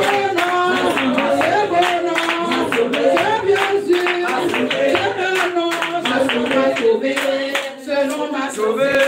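A church congregation clapping in steady rhythm during a French worship song, with loud sung voices and crowd cheering continuing throughout.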